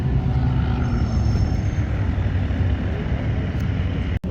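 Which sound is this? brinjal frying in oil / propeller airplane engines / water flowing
propeller airplane engines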